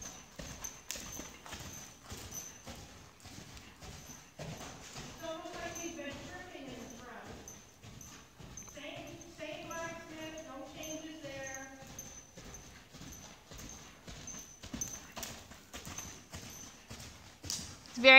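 A horse canters with hooves pounding the ground in a steady rapid clip-clop rhythm throughout, moderately close, while someone talks over it for much of the time.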